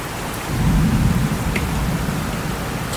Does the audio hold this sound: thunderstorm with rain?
yes